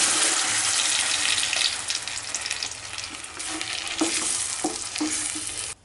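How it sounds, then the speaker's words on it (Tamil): Puréed tomato and onion frying in butter and a little oil in a pan, with a steady broadband sizzle and stirring scrapes, ending abruptly near the end. "பட்டர் கூடயே நம்ம அரைச்சி வச்சுக்கிற தக்காளி, வெங்காயம் எல்லாத்தையும் சேர்த்துக்கலாம்"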